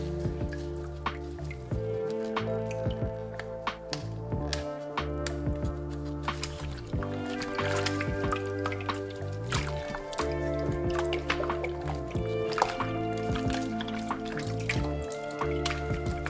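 Cleaned squid is rinsed under running tap water, with a steady close trickle and splashing and occasional wet squishing as the pieces are handled.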